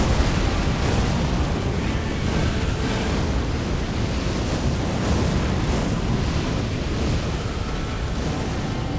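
Dense, roaring blasts and rumbling booms fill the clip continuously, a barrage of explosions in the video game Elden Ring, with no pauses.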